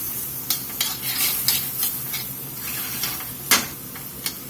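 Mushroom topping cooked with lager beer stirs and sizzles in a pan, with a steady close frying hiss broken by repeated scraping utensil strokes.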